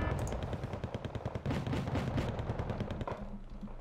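Rifle gunfire in the war strategy game Wargame Red Dragon: rapid bursts of sharp shots crackling in quick succession, dense and overlapping, with a heavier report near the end and the firing easing off after it.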